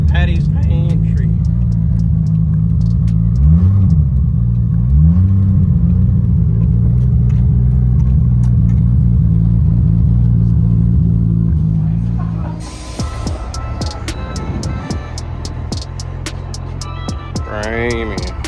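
Australian VL Turbo muscle car on 27 psi boost accelerates hard, its engine rumbling loud and close for about twelve seconds as the tyres struggle for traction, then the roar drops away into cabin noise.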